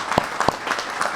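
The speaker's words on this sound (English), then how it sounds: "So I'd like to give a round of applause to that." Brief applause from a crowd at the grand opening of an airport lounge at Midway International Airport, with a few sharper individual claps standing out over a softer spread of clapping.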